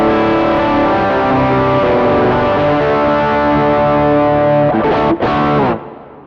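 An electric guitar played through a Fractal FM3 unit with drive and reverb rings out as a sustained distorted chord that holds for several seconds, then is briefly cut and restruck before being muted.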